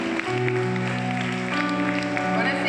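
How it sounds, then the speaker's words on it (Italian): Audience clapping in a church theatre in Pinetamare, Castel Volturno, at a Neapolitan show, a sustained round of applause blended with a voice and tonal sound. "Applausi."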